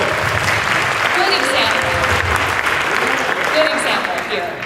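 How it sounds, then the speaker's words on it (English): Steady audience applause fills the room for Raul and his team at a supportive open leadership event, dense and continuous throughout with faint chatter mixed in. "So can we just get a little round of applause?"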